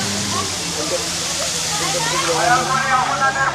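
A resort fountain pours and splashes nearby, a steady broadband rush of falling water running throughout while a person talks over it.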